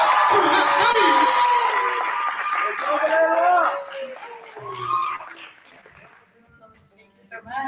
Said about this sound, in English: Please have a round of applause to the stage.